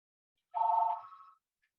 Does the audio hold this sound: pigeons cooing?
no